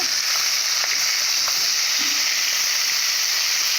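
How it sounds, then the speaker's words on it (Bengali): Pomfret fish fry in hot oil with a constant, dense hiss and sizzle, close and even, broken only by a few faint pops and small utensil touches. "মাছগুলো ভালো করে ভেজে নিয়েছি"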